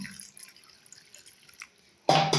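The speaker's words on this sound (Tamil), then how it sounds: "இப்போ இதில் பார்த்தீங்கன்னா வேக வைக்கிற அளவுக்கு தண்ணி" Water goes into a pan holding cut elephant foot yam on a gas stove for boiling: a few soft drips, then a sudden loud, close pour at the end.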